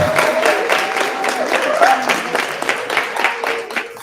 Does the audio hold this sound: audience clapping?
yes